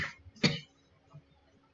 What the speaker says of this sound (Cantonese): 唔好意思啊，今日有2聲咳